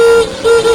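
A motorcycle horn fed by a weak dry battery gives a short, thin buzzing toot, dips briefly, then sounds again, close and alone.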